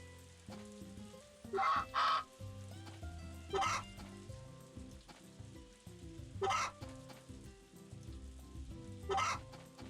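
Chickens clucking in a coop in the farming game Story of Seasons: A Wonderful Life, short bursts of clucking recurring every couple of seconds over looping game music.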